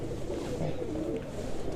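Pigeons cooing together inside a large breeding loft, soft low rolling coos layered continuously at close range.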